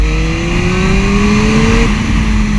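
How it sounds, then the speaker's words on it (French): A Suzuki GSR 600 motorcycle engine is held at full throttle, a loud, close, continuous drone whose pitch climbs steadily, then drops abruptly as the gear changes. "J'ouvre les gaz en grand, regarde"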